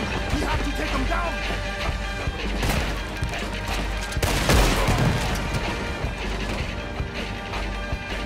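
Sharp gunshots from a video game crack through a dense, noisy battle scene, including a louder burst of fire near the middle.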